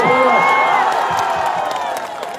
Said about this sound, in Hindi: कि दायरे में सिमट के इतनी ताली बजाओ कि पटना से लेकर के हैदराबाद तक इसकी गूंज आए